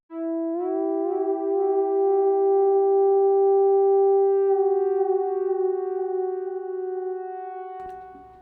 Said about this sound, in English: Pretty nice delay tail